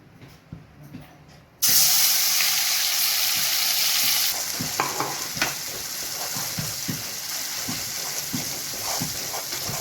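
Ground masala paste dropped into hot oil in a kadai for a village-style rohu fish curry, a sudden loud hiss after a quiet start, then a sustained sizzle with soft stirring clicks, no talking.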